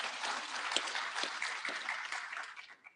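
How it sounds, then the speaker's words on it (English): Audience applause at an International Women's Day celebration, a moderately quiet spread of clapping with a few sharper claps, fading out toward the end. "give her a clap."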